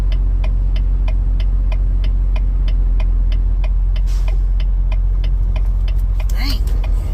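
Steady road traffic rumbles past a truck's cab on a highway, a continuous low engine drone with regular faint clicking, like a turn signal, through much of it, and a louder whooshing pass near the end.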